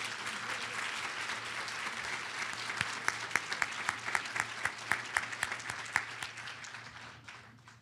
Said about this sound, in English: Please, ladies and gentlemen, join me in a round of applause.